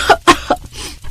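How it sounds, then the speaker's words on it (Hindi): Three sharp coughs from smoke in a house, in quick succession, close and fairly loud, then a quieter breathy rasp trailing off. "जिससे उसे खांसी होने लगती है।"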